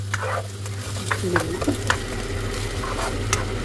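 Pork belly frying in a pan, a steady close sizzle with stirring clatters and scrapes, a low hum running underneath throughout.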